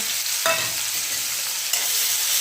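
Onion frying in hot oil in a pan with garlic, a close steady sizzle broken by a couple of sharp scrape-and-stir bursts, no speech.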